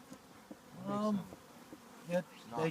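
Honeybees buzz inside an opened hive during a hive check, with a steady faint hum, a few louder passing buzzes near the listener, and a brief burst at the end.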